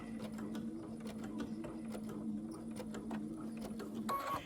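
A sewing machine runs steadily as it stitches reinforcement on a quilted hoodie. The motor hums evenly with a fast mechanical chatter throughout, nearby and moderately loud, with no one speaking.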